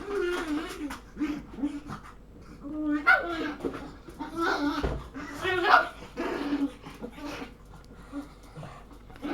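Panting and whimpering from a female dog recovering from an attack by a larger dog, among several household dogs including an elderly Husky, heard throughout under continuous talk.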